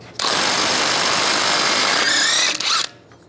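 A power tool fitted with a 12.30mm socket spins off the axle nut on a 1998-2010 Volkswagen Beetle strut assembly, making one loud, close, continuous whirring burst of nearly three seconds that ends with a brief rattle as the nut comes free.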